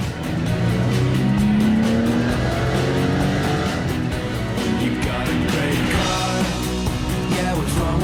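A Porsche's naturally aspirated engine revs hard on a racing circuit, a dense, loud, continuous roar with rising engine tones and hints of tire noise, steady for about eight seconds.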